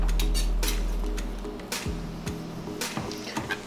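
Knife and fork working through a coffee-rubbed steak on a plate, with a series of light metallic clinks and scrapes over a faint low hum, close and fairly quiet.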